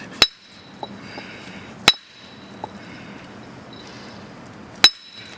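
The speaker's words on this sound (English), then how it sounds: "I'm going to turn my chisel and start nipping that off" Hammer blows on a steel chisel nipping off granite during stone wall building: three sharp, bright metallic strikes spaced a second or more apart, with faint lighter taps between them, close and clear over quiet outdoor background.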